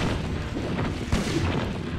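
Gunfire in the Silent Hill video game: a few loud, sharp gunshots burst through a dense, noisy game soundscape, with one heavier report near the middle.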